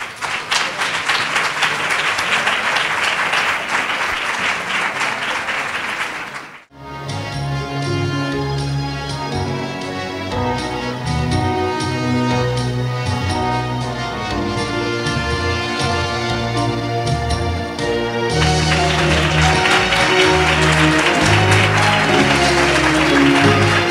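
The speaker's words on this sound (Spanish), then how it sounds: "Vamos a recibir con silencio y un fuerte aplauso a Rafael José." Audience applause welcoming a performer at Casa Alora opens the clip, breaks off sharply, then gives way to sustained music, and a second burst of clapping rises over the music near the end.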